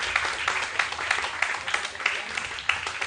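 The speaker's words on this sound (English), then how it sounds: "Let's just clap until they sit." Audience at a live pesticide-impact debate claps as panelists move to their seats, moderate sustained applause with a few crisper individual claps and faint voices mixed in.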